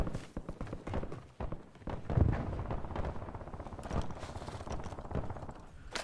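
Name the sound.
gunfire in the video game Call of Duty Warzone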